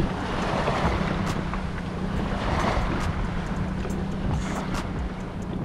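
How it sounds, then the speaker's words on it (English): Ocean waves wash continuously at a remote island, a loud, steady roar of surf mixed with wind buffeting the microphone and no pauses. "Got some waves going on here."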